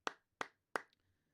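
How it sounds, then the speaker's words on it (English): Three sharp, evenly spaced hand claps close by, each a crisp burst that decays quickly, followed by a brief faint tap and near silence. "Claps to all of you."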